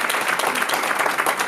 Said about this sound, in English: Let's give La Doctora another round of applause